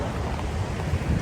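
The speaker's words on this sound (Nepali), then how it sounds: "गाइस हावाले उडायो म देख्छु" Strong wind buffets the microphone at Memorial Park in Newcastle, a steady low roar and rumble that persists without a break for the whole moment, no voices.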